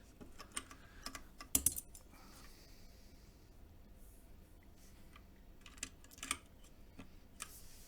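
Keystrokes on a JD40 carbon fiber mechanical keyboard click sparsely and close up, with a few sharper taps standing out among quiet pauses and no talking.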